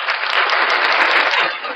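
Audience applause fills the space in a steady, dense wash of many hands clapping, sustained and fairly loud throughout before easing slightly at the end.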